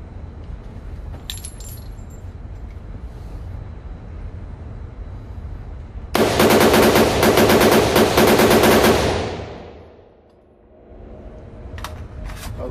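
Rapid gunfire from a Maxim Defense PDX rifle in 7.62x39 at an outdoor range, a loud dense string of shots lasting about three seconds, preceded and followed by quieter range ambience and faint metallic clicks.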